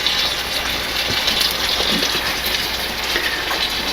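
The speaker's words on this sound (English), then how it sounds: "I'm going to put a little bit of barbecue sauce in here." Barbecue sauce poured into a pot of chili, a steady wet gushing pour that runs evenly and close up for the whole stretch.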